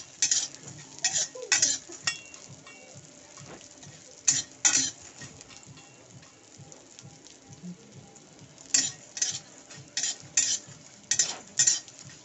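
Bori lentil dumplings fry with brinjal in a pan, a soft sizzle beneath repeated sharp metal spatula scrapes and clinks against the pan in clustered bursts, close by, with no talking.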